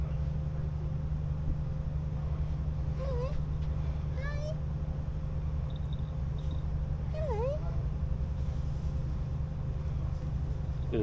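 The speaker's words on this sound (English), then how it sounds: "There's a kitty cat." A few short cat meows sound faintly over a constant low mechanical hum, spaced a few seconds apart, at a resort in the Maldives.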